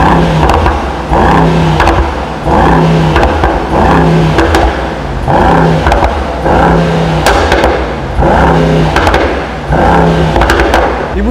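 A Mercedes-AMG GT63s with a new stage tune of about 700 PS, revved repeatedly while stationary, giving loud, close, rhythmic bursts of roughly a second each with short gaps between them.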